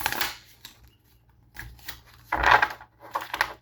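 Deck of tarot cards being shuffled by hand, several short papery riffling bursts separated by brief pauses, close and crisp, with no talk over them.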